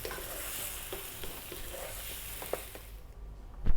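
A spoon stirs mushroom and potato curry in a hot pan, with soft scraping strokes and a low sizzle running underneath, ending in a couple of louder knocks against the pan.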